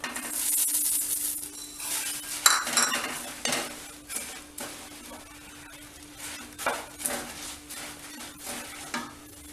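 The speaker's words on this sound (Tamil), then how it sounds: "எல்லா பக்கமும் பொரியில் நல்லா வெள்ளைப்பாகு படுற மாதிரி கிண்டிக்கங்க" Puffed rice is stirred through sticky jaggery syrup in a pan for pori urundai, producing close, irregular scraping and rustling with metallic clinks of the spoon against the pan and a light sizzle, no talking.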